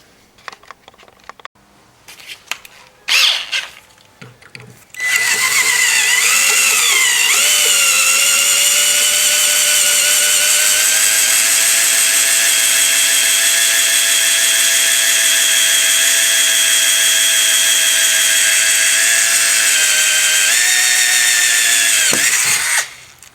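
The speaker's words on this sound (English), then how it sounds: "my drill bit chucked up in my drill, so let's go ahead and start drilling" A few handling clicks and knocks, then a power drill whines steadily at high pitch for about eighteen seconds drilling into a stuck brass cartridge case, close and loud, before spinning down.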